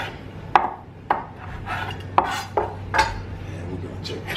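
A knife cuts the top half off a baked potato for a crab-loaded dish. Several sharp clicks and scrapes against a plate or board land about every half second, close and distinct over a low background hum.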